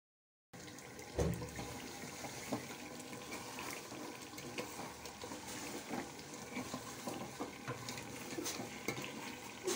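Water running and splashing as it is poured into a beef and bottle gourd (lauki) curry cooking in a pot, a steady continuous pour with some bubbling for most of the clip.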